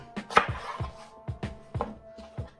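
Apples being cut and cored for applesauce, a series of about eight sharp knife chops on a board at an irregular rhythm, close and fairly quiet.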